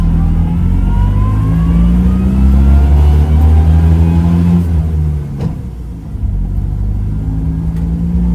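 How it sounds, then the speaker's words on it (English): A 1967 Fiat 500F's small rear-mounted air-cooled engine drones loudly and strains as it revs, pitch rising and falling through gear changes, heard from inside the car. "That little rear-mounted air-cooled engine is working very hard. It's screaming away back there"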